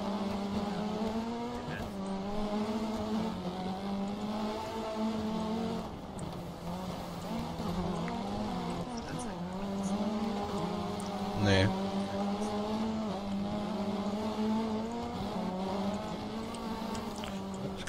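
A rally car in Dirt 3 drifts with its engine droning and shifting pitch, tires squealing through long slides, steady and moderately loud under faint voice.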